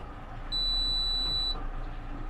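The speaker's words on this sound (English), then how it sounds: "you press the little red button and you get hopefully a beep" A boat's bow thruster control giving a single sustained electronic beep about a second long after its red button is pressed, clear and steady over a low background hum.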